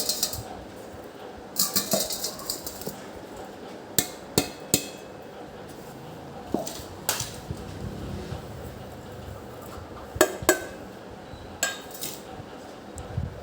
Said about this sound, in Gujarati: હવે આપણે આ બધી જ વસ્તુ એક મોટા બાઉલમાં મિક્સ કરીશું